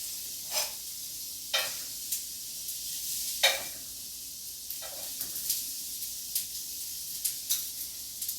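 Fish fillets for Hawaiian fish tacos frying in a pan, a steady close sizzle and hiss with several sharp spitting crackles and pops recurring through the stretch, no voices.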